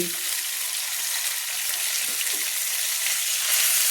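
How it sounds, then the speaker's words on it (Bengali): Two large tilapia fish fry in a crowded wok, turned over as they cook, giving off a loud, dense, continuous hiss of hot oil with no talking. "এই মাছটাও আমি সেমভাবে উল্টে নিচ্ছি বন্ধুরা"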